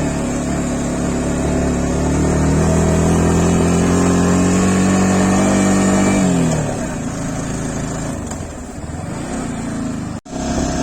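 A Yamaha R15 V4 motorcycle engine held in first gear while climbing a hill: a loud, steady hard-working drone that eases off partway through, then settles into a rougher, lower running sound.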